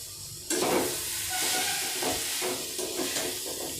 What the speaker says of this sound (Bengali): সেই চিকেনটি আমি ঢেলে দিলাম।